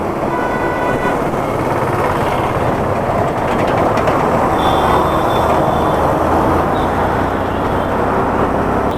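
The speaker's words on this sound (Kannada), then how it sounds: "ಸೊ ಎಲ್ಚನಹಳ್ಳಿ ಮೆಟ್ರೋ ಸ್ಟೇಷನ್ಗೆ ಬಂದಿದ್ದೀವಿ." Train noise at Yelachenahalli metro station in Bengaluru: a steady, loud rumble of rail traffic with faint tonal squeals, continuous throughout with no talking.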